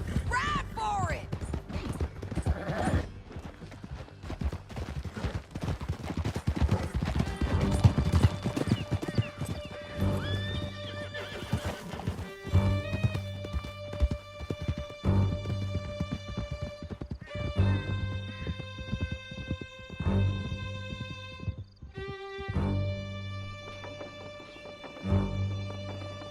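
Horses gallop through a canyon in the video game Red Dead Redemption 2, a steady drumming of hooves with whinnies and distant gunfire, later joined by sustained musical tones as the ride continues.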